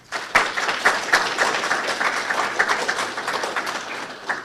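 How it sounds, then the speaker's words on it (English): Audience applause at a retirement ceremony and police chief swearing-in, steady dense clapping from a crowd held at an even level for several seconds without talk. "I think we need to give them a round of applause."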